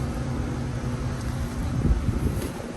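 Strong wind from Tropical Storm Debby sweeps through a flooded Florida yard, a steady close broadband roar with gusts that swell and buffet the microphone for the whole stretch.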